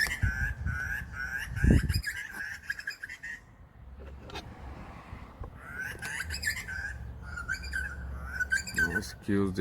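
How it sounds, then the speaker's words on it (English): Loud, repeated whistling calls from birds in breeding season close by, coming in bursts with short pauses, plus a brief thump and some background rustling. "Excuse the birds noise, that's their breeding season"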